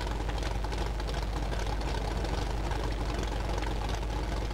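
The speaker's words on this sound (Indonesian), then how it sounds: "Oke, hidupkan dulu mobilnya. Ternyata kasar ya mobilnya." Toyota Rush engine idling in the off-road video game MudRunner, a rough, steady low rumble that stays constant throughout with no talk over it.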